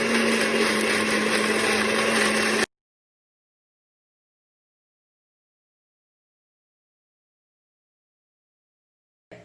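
Mangalore-style fish fry masala with a little rice whirs loudly in an electric mixer grinder for nearly three seconds, then cuts off abruptly into silence.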